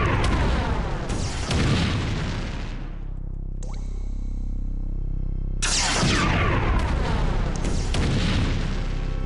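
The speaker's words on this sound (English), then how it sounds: "Now I shot at the wall." Gunshots fired at a wall in the 1996 game Realms of the Haunting, two heavy booming blasts a few seconds apart, each loud and ringing out over a brief quieter rumbling gap.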